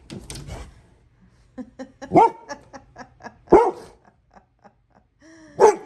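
A dog barks and yips in sharp bursts close by at a squirrel outside the window, with whimpering and low growls between the louder barks.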